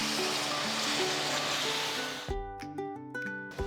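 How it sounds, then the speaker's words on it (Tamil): Water pours into a pan of simmering kuzhambu, a brief rushing splash over steady cooking hiss, then the pour stops and scattered clinks and stirring knocks follow close by. "இப்போ 1 கப் தண்ணி ஊற்றி"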